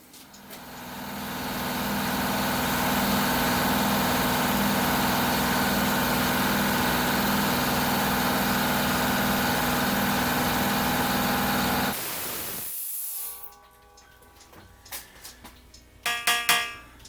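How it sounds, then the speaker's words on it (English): A shop air compressor kicks in and runs with a loud, steady mechanical drone for about twelve seconds, then cuts off, leaving a few faint clicks and knocks. "what I did was I bled the air compressor just a little bit so that it would kick in"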